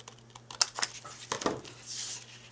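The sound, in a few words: scissors cutting tea-dyed paper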